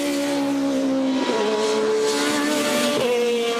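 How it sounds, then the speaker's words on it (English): BMW touring cars race at Imola in the 2009 World Touring Car Championship, engines screaming loud and close with a steady high-revving drone and two quick upshifts that briefly dip the pitch. "Alain desperate to try and pick up a place and get away from those BMWs."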